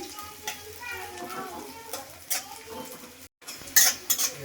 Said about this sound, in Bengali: একটু বাদামি বাদামি ভাজে নিই।